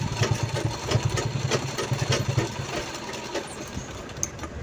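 A sewing machine stitches old denim jeans into a pencil pouch, running in short rhythmic bursts of rapid clatter with brief pauses, close and moderately quiet.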